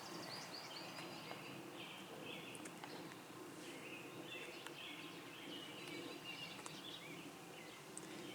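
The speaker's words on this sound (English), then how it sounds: "so you can hear the bird song" Faint birdsong chirps and trills across an outdoor garden ambience in mid-June, several birds calling softly in the distance with no talking.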